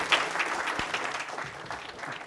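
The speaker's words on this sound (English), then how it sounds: "Give us big applause." An audience at a lunchtime forum applauds warmly after a talk, with dense, steady clapping from many hands filling the room throughout.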